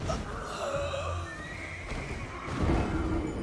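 A horse neighs loudly in the video game Elden Ring, a clear whinny followed by hoofbeats and faint game sounds around it.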